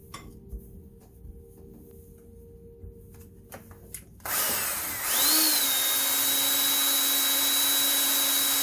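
Electric drill spins up and runs steadily, enlarging holes in a metal intake adapter for a 1958 Plymouth dual-quad setup, a close, constant whine after a quiet start.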